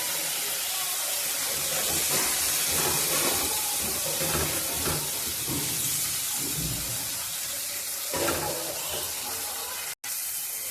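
Ginger and fennel paste with turmeric sizzles in a pan as it is sautéed for lentil dal, a steady hissing fry with scraping stirs and brief spatters, close and continuous.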